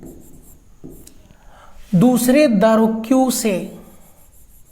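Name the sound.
writing by hand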